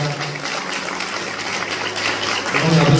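Wedding guests applaud at a ceremony, a steady broadband clatter of many clapping hands that swells louder near the end, with a faint voice underneath.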